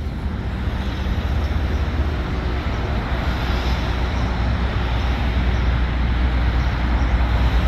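A United Airlines airliner flies overhead, a steady broadband engine drone that holds evenly throughout with no one speaking.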